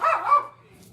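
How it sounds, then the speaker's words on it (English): A dog barks once or twice close by, loud at first and then fading to a quieter tail, over a faint steady hum. "that's the dogs"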